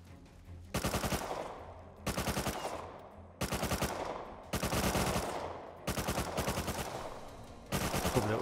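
Automatic weapon fire in a modded video game about raiding a Martian oil rig: six loud, rapid bursts of gunshots separated by short pauses, close and alone without talk.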